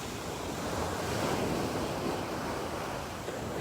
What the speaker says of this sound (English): I'm now competing with the sounds of the ocean